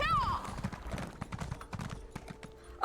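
Steady clip-clop of horse hooves at a walking pace in Elder Scrolls Online, fairly quiet, with game sounds around it and a sharp chime at the end.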